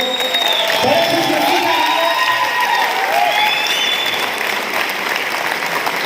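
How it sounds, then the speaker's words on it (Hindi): Loud applause from a large convention audience fills the whole stretch, steady clapping mixed with cheers and whoops, at an anniversary event. "एक बार जोरदार ताली बजा दो।"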